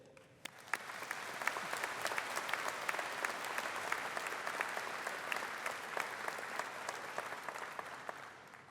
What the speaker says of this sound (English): Please join me in a round of applause to thank our family and friends